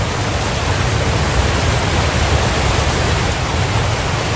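A loud waterfall in the video game Hitman 2 roars as a steady, dense wash of rushing water, filling the whole stretch without pause or voices.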